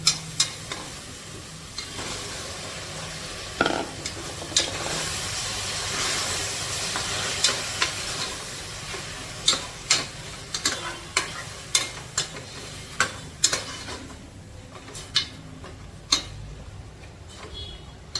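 Mutton going into a hot pan with curry leaves and green chilli, giving a broad sizzle followed by sharp, regular stirring clacks of a spoon against the pan, close by, with no talk.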